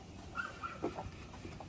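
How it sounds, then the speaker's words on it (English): A neighbor's dog whimpering with a few faint barks, distant and quiet against low background noise, with short whines scattered through under two seconds. "That's my neighbor's dog."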